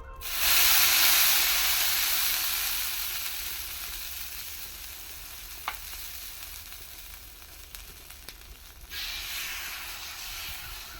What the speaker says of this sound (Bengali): এখন আমি কিছুটা জল দিয়ে দিয়ে দেবো তাওয়াতে